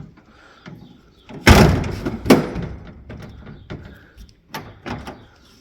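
A door being opened after its handle was adjusted with a screwdriver, giving a loud sliding rumble and thump, a second knock shortly after, then lighter rattles and taps as it settles.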